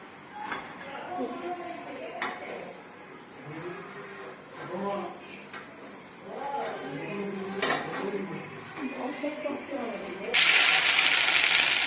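Chicken bread rolls drop into hot oil near the end, setting off a loud, bright, steady sizzle that follows a stretch of talking and light kitchen clinks.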